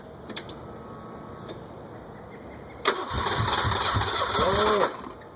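A 1988 Ford Ranger 2.9 V6 cranks after reassembly: brief ticks early on, then a loud starter grind near the three-second mark rising into a rough, revving catch-and-run before it cuts off.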